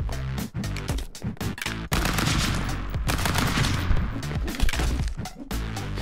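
Gunfire from the stick-figure fighting game Stick Fight: The Game, with loud, rapid bursts of shots and crashes in quick, uneven volleys and brief gaps between them, close and dense.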